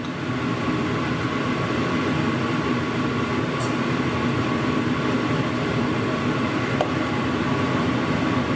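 Pieces of pork belly (gratons) frying in a pot of hot oil at about 200 degrees for hog cracklins, giving a steady, dense, continuous sizzle and hiss that holds level throughout with no pauses.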